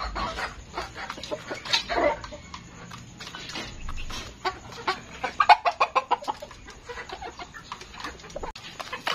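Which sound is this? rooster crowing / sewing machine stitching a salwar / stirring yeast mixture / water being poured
rooster crowing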